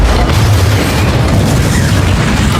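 A loud, sustained explosion roars through a war film, with deep rumbling booms and broadband blast noise that hold steady at full strength for the whole stretch, close and overwhelming.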